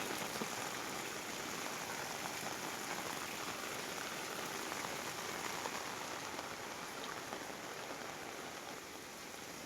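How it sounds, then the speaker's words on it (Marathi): Unbroken downpour drumming on a sheet-metal roof, a loud, even wash of rain with no pauses and no voices, during flooding of the Nira River. "जबरदस्त पाऊस चालू आहे बघा."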